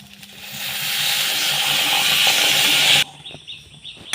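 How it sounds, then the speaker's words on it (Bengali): Water hits a hot wok holding sugar and bursts into a loud, rising steamy hiss that lasts about three seconds and then drops off abruptly, leaving faint sizzling behind. "কড়াই, এবার অল্প করে জল দেব।"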